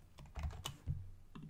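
Computer keyboard being typed on, a short burst of several quick, close key clicks at an uneven rhythm, fairly quiet and with no voices.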